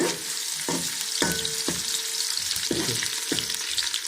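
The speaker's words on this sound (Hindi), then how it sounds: "अब इसका तड़का लगाएं।" Onions and cumin sizzle and crackle in hot oil, with a few sharp scraping stirs at irregular intervals, up close.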